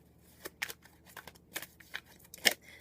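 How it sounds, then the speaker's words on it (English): A deck of tarot cards is shuffled by hand in a quiet room, giving several short, crisp riffling bursts at irregular intervals, close and fairly soft, the last burst the loudest. "I'm going to give this a shuffle"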